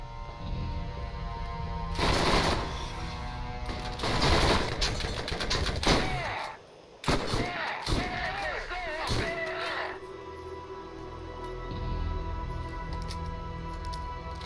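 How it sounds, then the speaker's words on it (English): Borderlands gunfire, several bursts of sharp shots and metallic clanks at close range over game music, with talk over parts of it. "I love hearing those guns fire."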